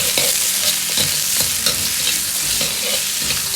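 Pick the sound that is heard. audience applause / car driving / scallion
scallion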